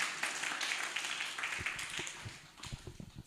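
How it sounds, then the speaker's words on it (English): A crowd at a World Safety Day corporate event applauds, a dense wash of clapping that thins into scattered individual claps toward the end. "Let's welcome with a round of applause."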